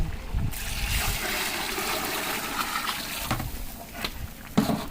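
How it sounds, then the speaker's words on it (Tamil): Water pours steadily into a cooking pot for chicken biryani, a continuous splashing trickle close by, ending with a few clinks and knocks. "ஒரு படிக்கு ஒன்றரை தண்ணி வச்சுருக்குறோம் நம்ம ஊற்றிக்கலாம்"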